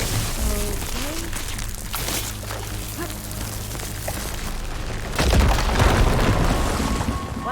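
A firegleam blast in Horizon Forbidden West, heard as a heavy, loud boom that swells partway through amid rumbling, crackling debris, with earlier lower rumbles and a faint voice.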